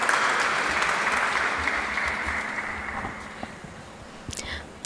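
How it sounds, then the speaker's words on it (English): An audience at a commencement ceremony for a master's in political leadership and governance claps steadily, a dense, full round of applause that gradually thins and fades out. "Please put your hands together and welcome her with a round of applause."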